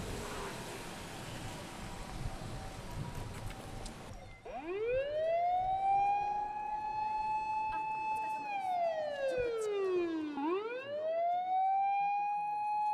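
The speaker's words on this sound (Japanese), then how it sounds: "消防車が行き交う中、" Sirens of fire engines rushing through streets during the Shuri Castle fire in Okinawa: a loud wailing tone rises after a few seconds of low background noise, holds, then dips and climbs again, close and dominant.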